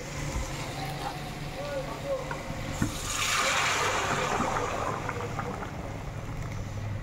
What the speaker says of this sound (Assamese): মটনখিনি ভাজা হৈ গ'ল, এতিয়া গৰম পানী দি দিম।